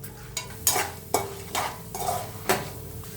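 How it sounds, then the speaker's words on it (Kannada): Peanuts, chana dal and urad dal frying in a pan for lemon rice, a spoon scraping and knocking against the metal every half second or so over a soft steady sizzle, close by with no talk. "ಈಗ ಕಡಲೆಬೇಳೆ ಮತ್ತು ಉದ್ದಿನಬೇಳೆ ಈಗ ತಿರ್ಗಾ ಮತ್ತೆ ಇದನ್ನು ಸ್ವಲ್ಪ ಫ್ರೈ ಮಾಡ್ಕೊಳ್ಳೋಣ."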